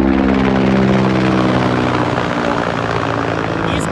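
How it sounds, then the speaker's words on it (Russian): A helicopter passes low and loud over a landfill, its steady rotor drone and engine whine dominating throughout, close and continuous with no talk. "Сейчас, ребят, вертолет пролетает над свалкой."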